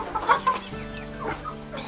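Hens clucking close by on a vegetable-garden plot in the Kuban, in short, uneven bursts, a few louder calls standing out over a steady low farmyard hum.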